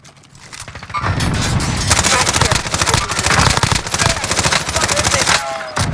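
Sustained rapid automatic gunfire in Call of Duty Warzone with a PKM machine gun, dense overlapping bursts and cracks starting after a short quiet lead-in, loud and close, with game voice callouts underneath.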